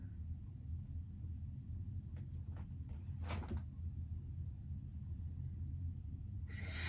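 A low hum fills a quiet room, broken by faint clicks and a soft thud like a fridge door opening, then a louder hiss at the end.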